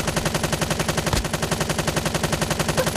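Rapid automatic gunfire from a new gun in Call of Duty Mobile, a steady, loud stream of evenly spaced shots running the whole time with one heavier burst midway, no talk over it.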